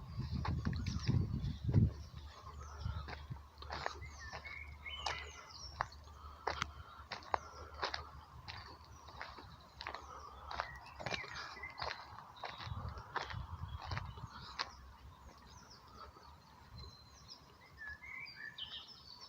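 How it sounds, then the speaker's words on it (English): Birds call by a lake used by anglers: repeated sharp chirps and twittering calls at moderate distance, with a few footstep-like thumps early on and soft outdoor ambience throughout. "I'm not sure whether you can hear the bird sounds, but there are quite a few calls at the moment."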